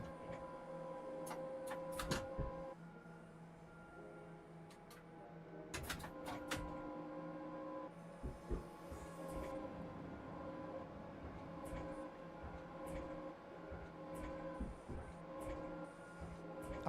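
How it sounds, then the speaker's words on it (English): Train doors closing in the Train Sim World 6 video game: an odd mechanical ticking and beeping with tonal warning chimes, sharp clunks around two and six seconds, steady cab hum underneath, no talk. "I've never heard the doors sound like that when they close"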